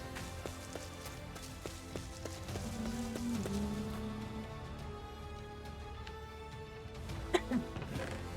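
Rain falls in modded Minecraft, a soft continuous patter under scattered game effects and a rising tone, with no speech.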